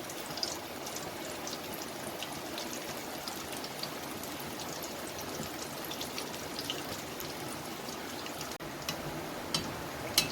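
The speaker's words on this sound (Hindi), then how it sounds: "पकोड़े मैंने डाल दिए फ्राई होने के लिए दरमियानी आंच पे" Onion pakoras fry in hot oil over medium heat, making a steady, dense sizzle with scattered bright pops and crackles throughout, close and continuous.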